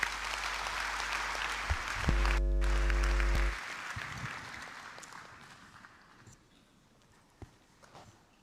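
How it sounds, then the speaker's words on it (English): Graduation ceremony audience applauding the UWC Creative Arts Choir, a loud sustained round of clapping that gradually fades out over several seconds, with a steady electronic hum briefly overlapping early on. "Another round of applause for them."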